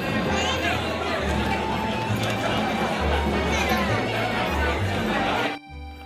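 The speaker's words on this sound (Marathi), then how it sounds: "पण पाहता पाहता गर्दीही वाढायला लागली" A crowd of pilgrims murmurs and shuffles at the Ekvira Aai temple, a dense, steady babble with footsteps throughout that drops away abruptly near the end.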